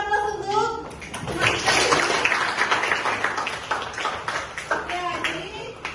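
Classroom applause at a senior high school, a burst of many hands clapping together that starts loud, carries on for several seconds and fades, with voices over it.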